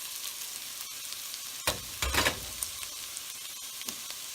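Carrots tumble into a pan of caramelizing onions, setting off a sudden, louder burst of sizzling that swells for about half a second before settling back into a steady, close-up saute hiss.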